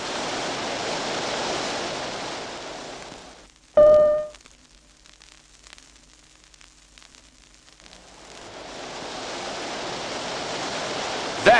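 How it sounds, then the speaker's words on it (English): Roaring waterfall as an audio drama effect for a 1974 Planet of the Apes comic record: broad steady rushing noise that cuts out briefly after a short whistling tone, then swells back in to full strength. "Listen, that roar. Is it a waterfall?"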